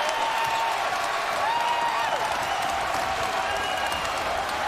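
An arena crowd at a college basketball game between Akron and Kent State keeps cheering and clapping after a baseline hammer dunk, a loud continuous roar with a few whistles rising over it.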